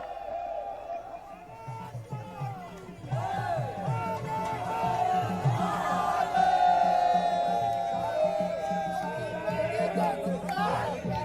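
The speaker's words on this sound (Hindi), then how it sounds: "रैली में खूब भीड़ है।" Crowd noise at a political rally in Varanasi, a steady murmur of many voices with scattered calls and shouts, rising in volume partway through.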